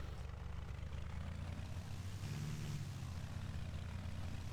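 The propeller engine of a Cessna 172 runs at full throttle in the X-Plane 11 flight simulator as a steady, faint droning hum with a low buzzing tone, continuous and with no talking.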